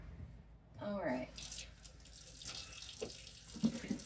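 Running water from a tap wetting hands while handling sourdough during stretch and folds, a splashy sink flow with drips and hand movement, close, with a person talking over it.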